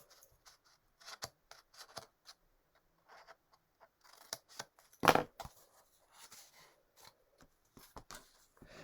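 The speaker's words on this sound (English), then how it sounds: "We'll just cut out a chunk, miter the corners as it were" Quiet, sparse snips and taps of scissors cutting a chunk out of material to miter the corners, irregular close clicks with one louder thump midway and no voices.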